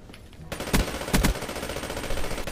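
PPSh submachine gun fired in a video game: dense continuous automatic fire starting abruptly after a brief quiet moment, loud and close, with heavier bursts punctuating the steady rattle.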